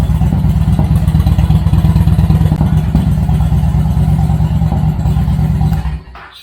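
A motorcycle engine runs loud and steady right after starting, with a rough low rhythmic idle and mechanical clatter that cuts off abruptly near the end.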